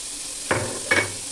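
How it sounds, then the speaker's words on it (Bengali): Chopped onion added to hot oil in a pan with fried ginger, stirred with two quick scraping strokes over a soft background sizzle, close and fairly loud. "পেঁয়াজটাকে দিয়ে একটু নেড়ে চেড়ে নিতে হবে"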